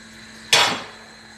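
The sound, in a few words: mixing honey sauce in a bowl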